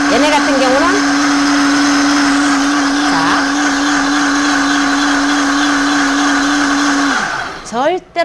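A countertop blender whirs steadily while blending ABC detox juice of apple, beet and carrot, with a loud continuous motor drone that spins down near the end, then a few brief bumps follow.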